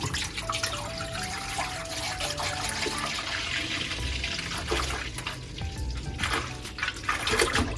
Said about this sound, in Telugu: మొత్తం మూడు లీటర్ల పాలు పోసేస్తున్నా